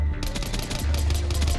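Rapid automatic gunfire from a Black Ops video game match, a dense continuous burst of loud, close shots with no gaps and no voices.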